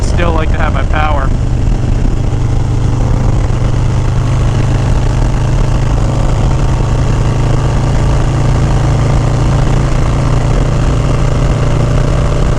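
A motorcycle engine drones steadily at close range while riding, a constant loud hum with a low throbbing tone under wind rush throughout.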